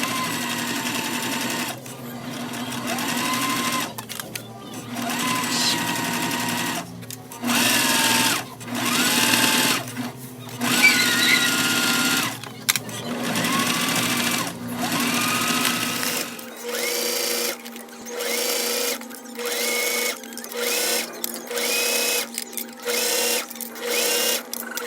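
A sewing machine stitches a slip pocket onto a card pocket for a circle bear bag in a series of close, whirring bursts separated by short stops, loud and mechanical, with little talk.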